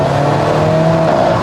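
Steady four-cylinder engine drone of an Alfa Romeo 4C, loud and close, a continuous even hum with a faint rising tone and no voices.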